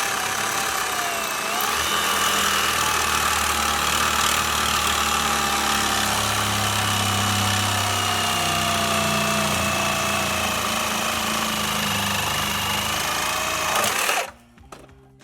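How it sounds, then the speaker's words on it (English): A power tool cuts through the front end link of a 2014-18 GM Silverado or Sierra truck near its plastic shield, a loud steady high-pitched whine and grind that runs for about fourteen seconds and then abruptly stops. "I'm going to try to cut this at the very top of the plastic shield"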